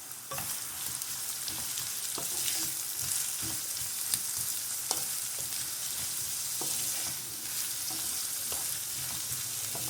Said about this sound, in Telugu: ఈ ఆనియన్స్ అన్నది గోల్డెన్ ఫ్రై కలర్ వచ్చే వరకు ఫ్రై చేసుకోవాలి.